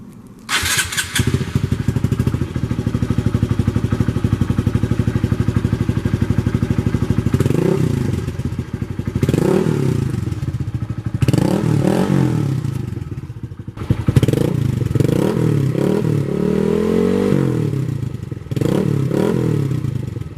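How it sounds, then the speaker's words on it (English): A Honda Grom motorcycle with an aftermarket exhaust idles loudly and close by in a garage, then revs repeatedly in sharp bursts whose pitch climbs and falls, with several quick throttle blips near the end. "let me fire up the exhaust so you can hear it"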